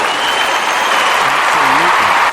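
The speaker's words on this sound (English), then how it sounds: "We ought to give them a round of applause for it." An audience claps in a steady round of applause, loud and dense throughout, with a voice talking over it near the end.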